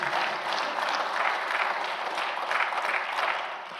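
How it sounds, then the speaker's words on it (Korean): A church congregation claps for the Good Shepherd during a sermon, a moderately loud, steady round of many hands with gentle swells, no voices over it. "선한 목자님께 우리 한번 박수하게 되기를"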